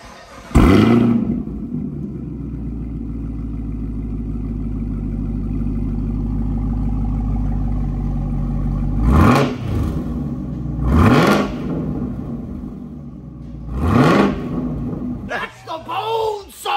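A 2020 Camaro ZL1 with an AWE track exhaust cold-starts with a loud bark, then settles into a steady, deep rumbling idle before three sharp revs near the end. Voices are faintly mixed in.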